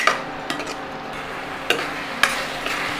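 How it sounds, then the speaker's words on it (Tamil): Mutton kulambu masala sautéing in oil in a pot, a low sizzle punctuated by several sharp scraping, clinking strokes of a spoon stirring at irregular intervals, close and without speech. "நல்லா வதக்கிடணும், இப்படி சுருவில் வதக்கி எண்ணெய் கக்கணும்."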